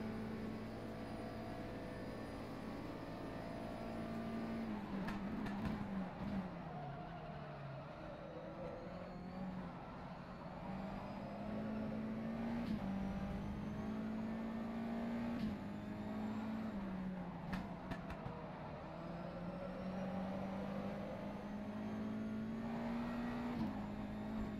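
A USF Formula 2000 race car engine in the rFactor 2 sim howls on without a break, its pitch rising through gears and dropping sharply at shifts and braking, moderately loud and with no voice over it.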